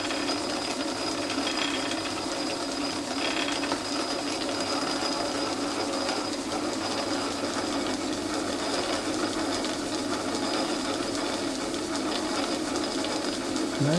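A metal lathe cutting threads during the restoration of a bench-mount bolt cutter, giving a steady, even mechanical whir and hum that runs without a break and without any voices.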